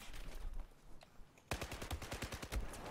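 FAMAS assault rifle fire in Battlefield 4 multiplayer: scattered shots at first, then from halfway a loud, fast automatic burst of closely spaced cracks that runs to the end, with no talking.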